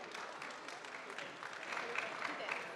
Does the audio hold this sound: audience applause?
yes